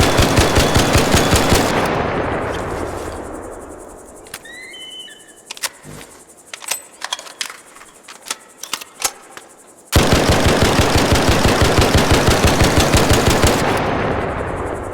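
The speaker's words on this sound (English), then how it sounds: "the rate of fire was really good" Rapid automatic gunfire from a weapon in a video game being tested for rate of fire: two long, dense bursts of fast, loud shots, each several seconds long, separated by a quieter gap holding a few scattered clicks and shots.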